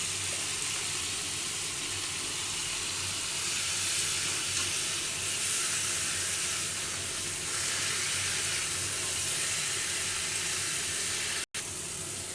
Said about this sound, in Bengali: মশলাটা কষানো হয়ে গেছে, দিয়ে দিচ্ছি আমি কচুর শাক।